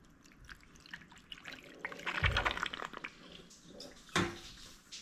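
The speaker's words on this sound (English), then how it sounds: "you can hear the water spilling everywhere" Water spilling from the rear sunroof drain of a VW Tiguan inside a closed garage, an irregular splashing and trickling with a louder gush midway and another sharp splash near the end.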